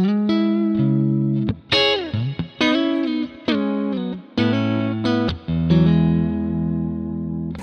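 A PRS electric guitar in coil-split mode, with a brighter, thinner, Strat-like tone and effects, plays a phrase of bent notes and chords, close and loud, no voices.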